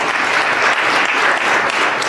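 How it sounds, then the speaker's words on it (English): Loud, dense audience applause for panelists at an election technology session, a steady continuous wash of clapping from a large crowd throughout. "let's clap for them."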